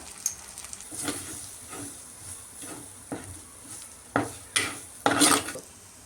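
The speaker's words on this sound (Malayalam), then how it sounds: "ഇവ ചേർത്ത് നല്ലപോലെ ഇളക്കുക" A spoon scrapes and stirs ground black pepper and spices in a pan for rasam, with a soft sizzle under several short metallic scrapes and clinks, the last few louder and close.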